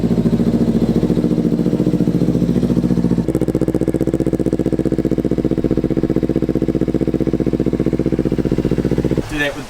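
A Kawasaki Ninja 300 motorcycle engine running close by, a loud, steady, pulsing drone with a slight shift in tone partway through before it cuts off at the end.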